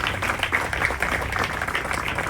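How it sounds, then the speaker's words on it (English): Steady, dense audience applause at a ribbon cutting, a continuous wash of many clapping hands heard at moderate loudness with no talking over it. "Let's give them another round of applause"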